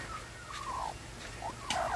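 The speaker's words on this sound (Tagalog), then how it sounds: "Ito may naglilimlim na manok dito." A brooding hen sitting on her nest makes a few short, rising clucks and low murmuring calls, close by over a steady background hiss.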